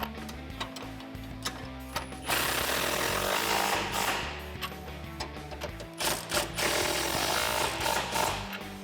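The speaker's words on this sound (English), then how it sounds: "Tighten these up now." An impact tool or ratchet drives 19 mm bolts and nuts on a 2005-2014 Mustang's Whiteline adjustable sway bar, giving a loud, continuous mechanical whirring and clicking in several bursts with short pauses and no voices.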